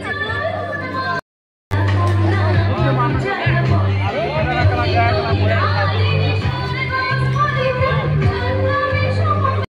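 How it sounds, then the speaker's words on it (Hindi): A dense, steady crowd hubbub at a Kali Puja festival fair with a dance program and shop stalls, with overlapping voices and children's chatter under a constant low hum, briefly cut to silence near the start. "यहाँ पे देखिए भीड़, बहुत ही ज़्यादा भीड़ भी है।"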